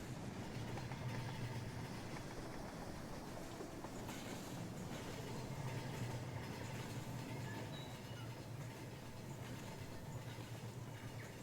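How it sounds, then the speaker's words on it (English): A model train rolls along the rails in the railroad simulation game Rolling Line, a steady rumbling run with rhythmic wheel clicks, continuous and moderately loud with no talking. "anybody who likes running trains, this is a great way to run a model railroad"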